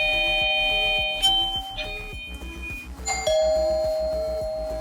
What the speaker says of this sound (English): You can use the existing doorbell chime if you already wired your doorbell to the same doorbell.